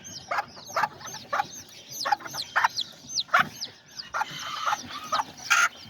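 Chickens and a few-days-old baby chicks clucking and peeping in a farmyard pen with roosters and pigeons nearby, a steady string of short, high chirps and soft clucks close by, with no talking.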